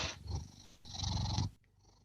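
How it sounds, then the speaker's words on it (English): A pet cat purrs softly and close by. The low rumbling comes in two steady stretches with a short break between them, then stops. "Purring."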